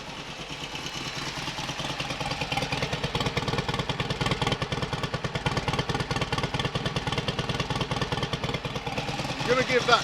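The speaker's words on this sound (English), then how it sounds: "I can retard the ignition and bring it down to about 1100 RPM" A Royal Enfield Constellation motorcycle idles at a slow, steady tick-over of about 1100 RPM with retarded ignition, a close, even rhythmic engine patter throughout.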